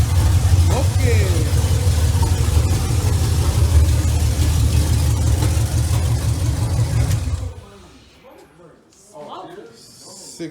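A 6.0-liter LQ9 V8 runs steadily at its first start-up after an LS swap into a car with a 460 transmission, a loud close drone that cuts off abruptly, leaving quieter background sounds.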